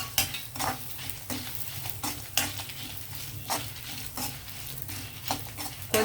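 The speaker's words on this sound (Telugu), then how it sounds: "ఇవి కొంచెం వేగుతున్నప్పుడే మనం ఎండుమిర్చి కూడా వేసేద్దాం" Coriander seeds, cumin, garlic and dried red chillies fry in hot oil for a fenugreek leaf chutney, a continuous close sizzle broken by repeated scrapes and stirring clinks of a utensil against the pan.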